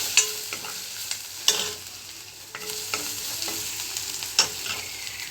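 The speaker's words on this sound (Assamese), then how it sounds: "এতিয়া মই একেখিনি তেলতে পিঁয়াজ দি দিছোঁ, নহৰু দি দিছোঁ। এইখিনি ধুনীয়াকৈ ভাজি লওঁ।" Onion and garlic fry in oil left over from frying fish, a steady close crackle and sizzle with sharp stirring clicks and scrapes of a utensil against the pan.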